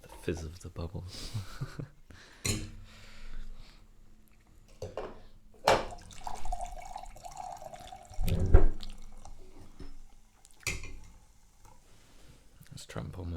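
A drink is poured into a glass, its liquid splash and trickle rising through the middle of the clip and mixed with clinks, while people talk over it.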